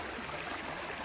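A small forest stream flows steadily beside a patch of wild fern, giving a close, continuous broadband rush and trickle of water with no voices.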